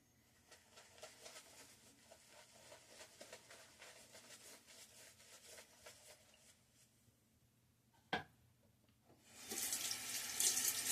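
A tap runs to wet a shaving brush, starting faintly and swelling to a steady splashing stream over the last couple of seconds, following a sharp click and quiet handling.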